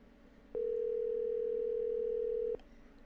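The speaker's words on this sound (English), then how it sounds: "It's ringing." A phone line rings out as a single steady electronic tone during an outgoing call, holding for about two seconds over faint background hiss before cutting off, with no voices.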